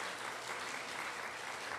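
A church congregation applauds in a brief, steady burst of many hands clapping together, fairly soft and even throughout with no talking over it.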